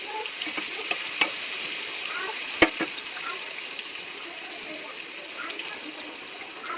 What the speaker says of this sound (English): Once the oil gets heated, slowly add the french fries into the oil.